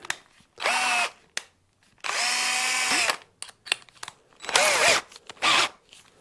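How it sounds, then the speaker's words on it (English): An electric drill fitted with a 9mm Famag bit, working on guitar bushings, whirs in several short bursts of about a second each. The bursts are close and loud, with quiet gaps and small clicks between them. "I've got a lovely little 9mm Famag drill bit there."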